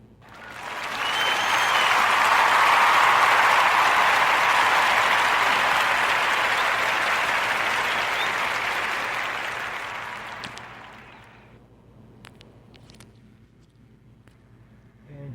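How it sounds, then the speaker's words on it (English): A long burst of applause from a crowd after a podcast host's introduction, loud and steady for about ten seconds, then fading to scattered claps and quiet. "give her a Warm Narrative podcast round of applause for her"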